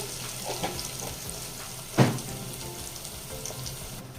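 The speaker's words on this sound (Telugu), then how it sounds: "దీంట్లో ఉల్లిపాయలు పచ్చిమిరకాయలు వేసి వేయించుకోండి" Onions and green chillies frying in oil for gongura, a steady soft sizzle with a sharp burst partway through and faint clinks, no talk.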